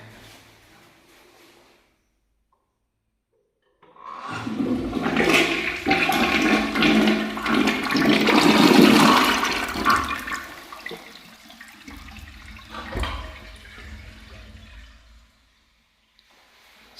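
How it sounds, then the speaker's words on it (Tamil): A Kerovit siphonic toilet flushes close by: a sudden rushing surge of water that builds, swirls loudly for several seconds, then tapers into a quieter refill trickle before stopping. "இப்போ இதில் ஃப்ளஷ் பண்ணி காமிக்கிறேன் பாருங்கள்"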